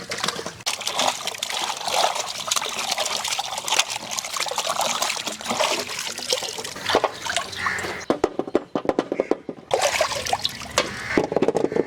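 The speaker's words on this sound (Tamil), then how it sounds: "பழத்தெல்லாம் கழுவி எடுத்துக்கலாம் ஐயா" Tap water runs and splashes steadily over fruit being washed for a fruit salad in an outdoor village kitchen, with gurgling trickles that break into choppier spurts near the end.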